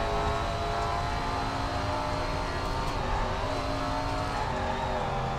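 A Super Late Model race car engine in a racing video game drones loudly and steadily at high revs, a continuous buzzing whine with no voices, as the driver lifts off the throttle.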